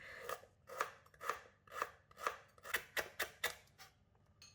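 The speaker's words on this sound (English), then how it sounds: "Cut the lemongrass thinly as they are fibrous." Knife slicing fibrous lemongrass thinly on a board for Thai red curry paste, about ten crisp, evenly spaced crunchy cuts, the last few quicker, close and with no speech.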